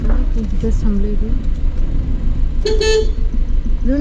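A car horn honks in a village lane during a Diwali visit, with short toots near the start and a louder honk near the end, set against idling road noise and people talking.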